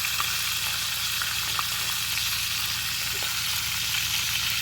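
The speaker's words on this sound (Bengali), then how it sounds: "তেল গরম হয়ে গেছে, এখন আমি শুটকি দিয়ে দেব।" Dried ribbonfish sizzles in hot oil in a pan: a loud, dense, even crackle of frying that carries on steadily throughout with no voices.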